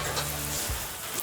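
Ingredients in a pot of Eritrean alicha sizzle and fry while being stirred, a dense close crackle with a soft low scrape near the end.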